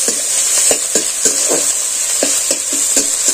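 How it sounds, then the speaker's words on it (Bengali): Vegetarian cauliflower snack filling stirs and fries in a pan, a steady bright sizzle broken by regular scraping strokes of the spoon about twice a second, close and fairly loud with no talking. "এটাকে আমি খুব ভালো করে নেড়ে চেড়ে নিচ্ছি।"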